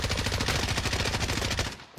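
Rapid automatic gunfire in a shooter video game while snipers fire, a dense loud burst of shots that runs for nearly two seconds before cutting off.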